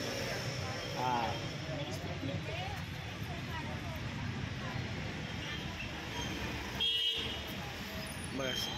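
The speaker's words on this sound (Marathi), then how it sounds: "गाड्यांचा खूप आवाज येत असेल," Busy street traffic at a city intersection in Pimpri-Chinchwad, with a continuous engine rumble and occasional horn toots. People talk over the din throughout.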